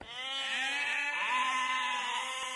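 A sheep bleats in one long, wavering cry, close and clear, with no other sounds around it.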